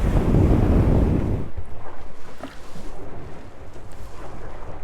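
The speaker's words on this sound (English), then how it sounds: "So this is upwind, under sail, in the forward cabin here." A Swan 55 sailing yacht heels upwind under sail, heard from the forward cabin: a loud rush of wind at first, then rhythmic surges of water against the hull.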